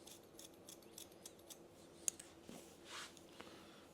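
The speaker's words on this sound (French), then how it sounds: "vous pouvez couper en piquetage" Scissors snip repeatedly in point-cutting on a man's hair, the top being cut for a softer, blurred finish; light, close, irregular crisp clicks spread steadily, one sharper snip standing out, with no talking.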